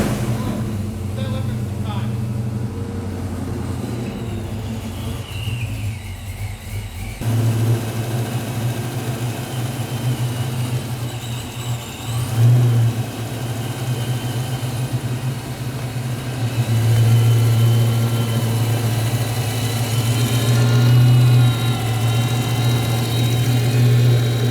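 A 1990 Ford Fox Body Mustang engine turns over and settles into a steady, loud idle with a deep rumble, swelling a few times as the throttle is blipped, while people talk over it.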